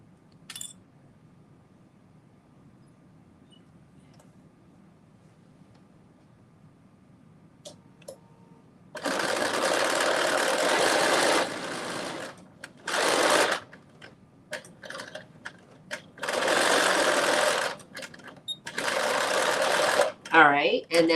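A sewing machine runs in several loud bursts of stitching along a skirt seam, separated by short pauses and a few quiet clicks, after a hushed stretch of room noise.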